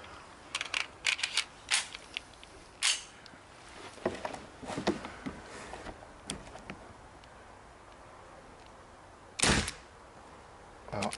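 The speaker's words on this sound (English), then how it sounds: "I'm just going to run through all four mags rapid fire" A 4.5 mm BB gun firing through its magazines in rapid fire, a quick run of sharp, snappy cracks followed by scattered single shots and pauses, close and fairly quiet with no talk.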